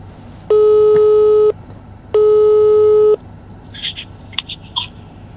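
A WhatsApp phone call rings out with two long, loud steady electronic tones separated by a short pause, followed by a few faint chirping clicks over a low background hum.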